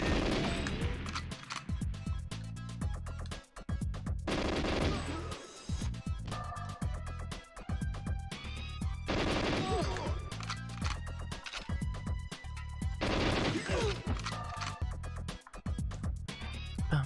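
Gunfire from a weapon in the video game GoldenEye 64 crackles in dense, rapid bursts over a busy game soundtrack, with repeated volleys across the whole stretch.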